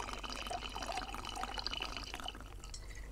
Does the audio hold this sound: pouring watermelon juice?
yes